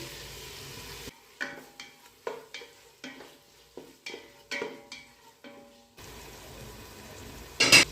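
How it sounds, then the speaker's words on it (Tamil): Chopped tomatoes with mint, coriander and curry leaves sautéing in a pan for coconut milk rice, a series of close, distinct stirring scrapes over a soft sizzle, with quieter bubbling before and after. "தக்காளி நல்லா சாஃப்டாக வதங்கி வரட்டும்"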